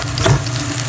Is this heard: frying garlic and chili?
yes